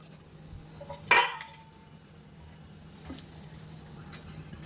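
Rice-flour dough for rice thepla is tipped from a pan into a kathrot, a wide metal plate. One sharp metallic clatter rings out, then the kitchen goes quiet apart from a few light scrapes.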